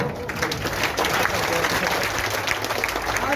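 Audience clapping at a community honours ceremony in Shergarh, India, a dense continuous burst of many hands applauding together, loud and steady throughout.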